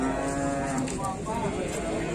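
A jumbo cow at a cattle market lets out a long, close, fairly loud moo that fills the moment, with low crowd murmur and market noise behind it.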